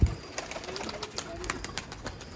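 Sialkoti pigeons coo in soft, repeated low calls, close by, with someone talking over them.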